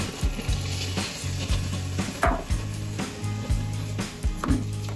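Washed rice tipped into fried masala for paneer pulao, with a steady close sizzle and repeated scraping, stirring strokes of a spoon in the pan.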